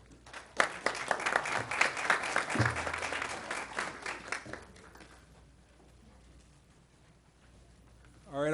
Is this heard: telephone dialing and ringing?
no